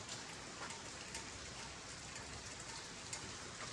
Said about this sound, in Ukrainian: Дощ іде